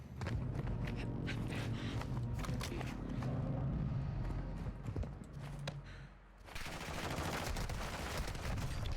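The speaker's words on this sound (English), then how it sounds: "There's no way they're both shooting at me, right?" Rapid gunfire from enemies in Warzone 2 rattles in dense bursts, loud and continuous, with a brief lull before another heavy burst of shots.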